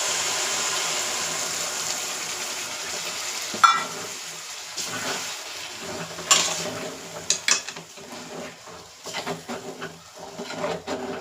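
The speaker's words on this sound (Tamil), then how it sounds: "இந்த பூண்டு நல்லா நல்லெண்ணெயிலே நல்லா வேகணும்" Garlic sizzling and frying in sesame oil for a Tamil garlic pickle, a soft crackling hiss with occasional stirring clinks and scrapes of a utensil against the pan, fairly close and quiet.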